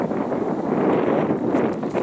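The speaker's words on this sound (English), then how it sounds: "Sorry about the wind, guys." Strong wind buffeting a microphone outdoors in a garden orchard, a loud continuous rumbling roar that swells and dips throughout with no talking.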